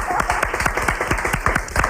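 A studio audience at a 1993 television talk show breaks into applause, a dense, continuous patter of many hands clapping close and fairly loud for a couple of seconds.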